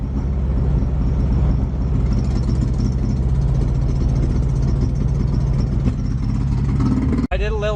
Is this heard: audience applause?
no